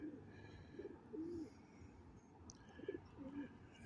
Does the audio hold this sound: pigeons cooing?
yes